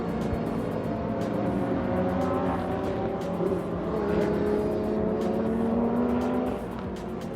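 GT race cars circulate at Sepang International Circuit, loud overlapping engine notes sweeping up and down in pitch as cars pass, a continuous close roar with a faint squeal of tires.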